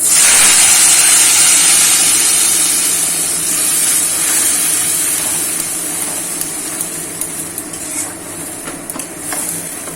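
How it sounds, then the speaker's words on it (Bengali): Masala paste of grated garlic, onion and tomato frying in hot oil in a pan, a loud steady sizzle and hiss that eases slightly over time, with faint stirring scrapes and no voices. "মশলাটাকে খুব ভালো করে ফ্রাই করবো, যতক্ষণ না কাঁচা গন্ধটা চলে যাচ্ছে"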